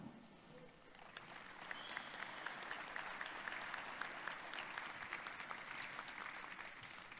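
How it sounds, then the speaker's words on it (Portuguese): Audience applause at the opening ceremony of a physical education and sport science congress, a steady, sustained wash of many hands clapping that holds evenly throughout and sounds somewhat distant. "E eu queria pedir uma grande salva de palmas ao professor Eduardo de Lima Melo"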